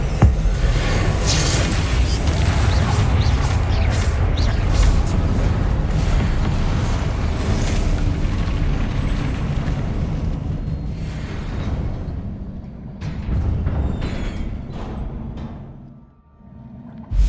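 Repeated spell blasts booming in Hogwarts Legacy, a dense rumbling barrage of explosive bursts and crackling debris that stays loud for most of the stretch before thinning out near the end.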